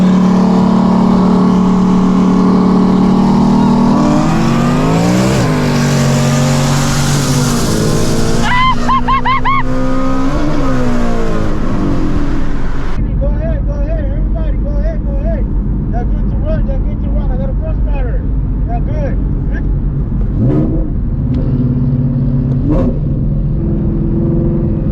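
A car engine roars and revs loudly, pitch climbing and falling through several pulls, then settling into a rougher idle with occasional blips.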